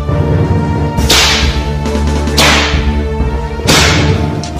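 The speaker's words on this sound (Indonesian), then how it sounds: "3 buah cambuk telah meledak bersahut-sahutan" Three whips crack sharply one after another during a fight, each snap loud and close, spaced about a second or more apart over a low rumbling backdrop.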